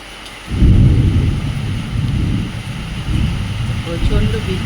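Heavy night rain outside with a deep rolling thunder rumble that swells in after a quiet half-second and lingers loudly, rising again toward the end over a steady wash of rain.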